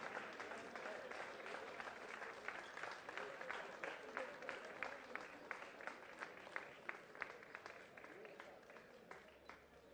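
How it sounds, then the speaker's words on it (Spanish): Sustained applause from a crowd at a cycling race award ceremony, dense steady clapping with sharper individual claps standing out, fairly close and continuous throughout. "Fuerte el aplauso"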